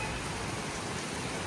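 Wind and rain outside, a dense, even hiss of falling rain mixed with gusting air, steady and moderately faint throughout the short stretch.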